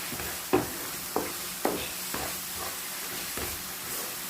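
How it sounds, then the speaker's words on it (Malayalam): Roasted grated coconut is stirred into a simmering tamarind fish curry, with a spoon scraping the pan in several distinct strokes over a steady sizzle and hiss, heard up close and alone. "തേങ്ങ നല്ലോണം കിടന്നൊന്ന് ഇളക്കട്ടെ"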